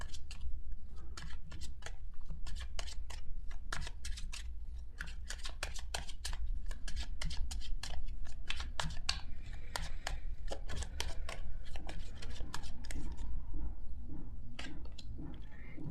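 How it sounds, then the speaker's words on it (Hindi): Tarot cards shuffled by hand in a quiet room, a long run of crisp, rapid riffling and flicking bursts repeated steadily for about fifteen seconds, close and clear with no talking. "सो शफल कर लेते हैं कार्ड्स"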